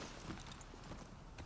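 Horse hooves clip-clop steadily on pavement in The Last of Us Part II, set in downtown Seattle, a quiet, even rhythm of footfalls heard fairly close with no voices.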